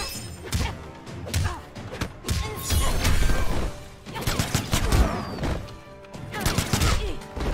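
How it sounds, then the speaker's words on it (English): Mortal Kombat X fight with bursts of gunfire, heavy thuds and crashing hits arriving in loud waves, as a character fires repeatedly during combat. "Nah, you stop all that shooting, girl."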